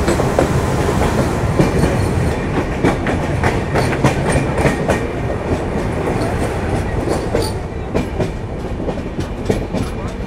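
Sealdah–Jalpaiguri Road Humsafar Express rolling across the Farakka bridge beside the Farakka feeder canal, a loud continuous rumble of wheels with rhythmic clickety-clack of rail joints and occasional metallic clanks throughout.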